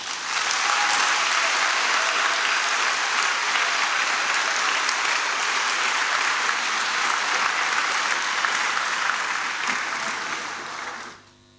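A church congregation at a Holy Trinity celebration breaks into loud, sustained applause for the fathers, a dense wash of clapping lasting about eleven seconds before fading out at the end.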